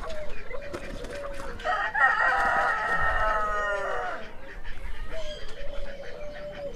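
A desi rooster being caught clucks and squawks in agitation, with a long harsh crowing-like squawk in the middle, loud and close throughout.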